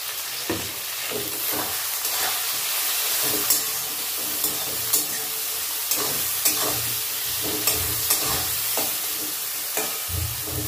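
Onion fries in a pan for a fish chachori, with a continuous sizzle and hiss broken by regular scraping stirs and soft clinks.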